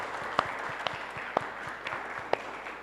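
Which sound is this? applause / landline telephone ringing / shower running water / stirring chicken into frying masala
applause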